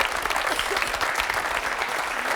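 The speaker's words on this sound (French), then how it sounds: "On peut applaudir très fort Caroline" A French television studio audience claps loudly and continuously for Caroline, a dense, even burst of applause throughout.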